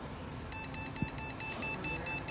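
A computer motherboard's POST speaker gives a series of about nine short, evenly spaced error beeps during a power-on fault check, pointing to a RAM problem; the tones are clear, repetitive and alone.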